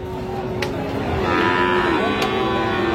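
Friesian and crossbred heifer calves at a busy livestock market in Raniganj: a drawn-out low moo rises over a steady wash of crowd and market noise, with faint clanks.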